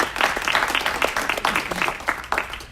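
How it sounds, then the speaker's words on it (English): Audience applause fills a community gathering honoring seniors at Thanksgiving: a steady, dense patter of many hands clapping close by, continuous from start to finish with no talk over it. "A round of applause for all this hard work."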